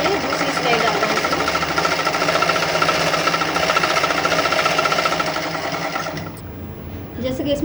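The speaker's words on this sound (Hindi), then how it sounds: "अभी हमें दूसरी सिलाई डालना है।" Sewing machine running steadily and loud while stitching a blue piping strip onto red fabric for a collar-neck kurti, a continuous mechanical whir that stops near the end, with a person talking over it.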